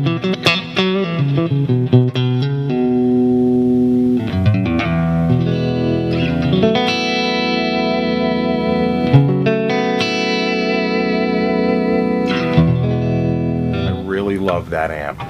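Distorted electric guitar through a Randall T2 amp head and matching Randall T2 cab, chords and ringing notes washed in plate reverb set to 16% wet, played continuously and fairly loud.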